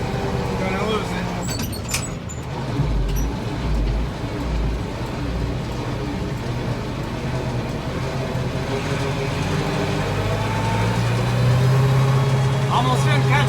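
A loaded farm vehicle's engine labours up a hill while emptying corn bins, a steady loud drone that rises and strains toward the end, with a voice talking over it.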